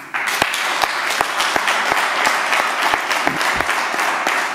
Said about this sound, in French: je demande à l'assistance vraiment de vous encourager et de vous applaudir